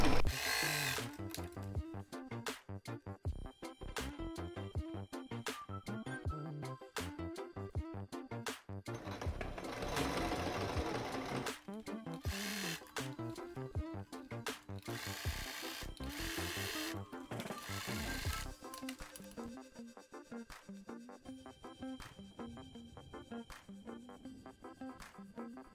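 Sewing machine stitching a double seam on dress fabric, fast mechanical whirring in several bursts of varying length separated by short pauses, close and fairly quiet.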